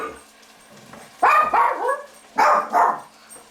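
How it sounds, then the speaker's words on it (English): Dogs barking in the background of a home kitchen while risotto cooks: two short clusters of barks, moderately loud, separated by a quiet stretch with low background hum. "I don't know what's up with the dogs and everything"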